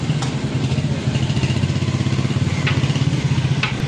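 A 2022 Royal Enfield Hunter 350 motorcycle engine runs nearby at the start of a test ride, with a steady, even low thumping pulse and a few faint clicks.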